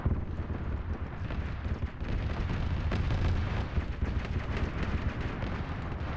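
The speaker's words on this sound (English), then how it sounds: "Now they're using the heavy HE cannon." Heavy HE cannon fire and explosions in a Warhammer 40K game battle boom and rumble steadily, with repeated thuds and blasts layered over a constant low roar, loud and busy throughout.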